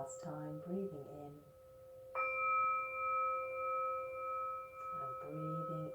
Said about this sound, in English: we'll come and breathe in 3 times with the chime.